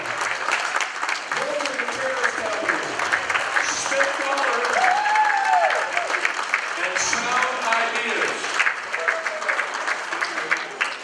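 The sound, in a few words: audience applause for sustaining business members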